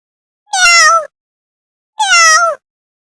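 Two loud, close cat meows, each about half a second long and separated by a pause, alone without other sound.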